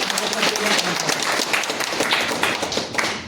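Crowd at a Rajasthan community gathering in Riyadh, a staff farewell event, breaks into brisk clapping with a busy, uneven patter and faint voices underneath.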